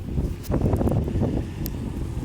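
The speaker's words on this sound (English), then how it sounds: "it's a little windy outside, but just bear with me" Gusty wind blowing outdoors in Amarillo, Texas, buffeting the microphone in loud low rumbling bursts, close and rough, with no voices heard.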